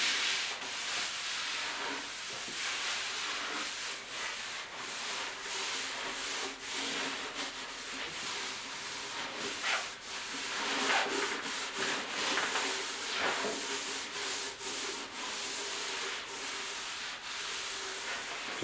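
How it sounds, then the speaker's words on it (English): A rag wipes wood stain evenly across plywood cladding on a basement beam, a steady, continuous soft rubbing and scuffing that carries on alone at moderate level throughout. "And then it's just a matter of wiping it, just even everything out."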